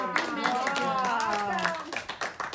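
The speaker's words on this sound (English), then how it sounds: "Let's give Jamie a round of applause," A small audience claps for a young performer after a rope magic trick at a casual venue. The clapping is brief and uneven, with voices and cheering layered over the top.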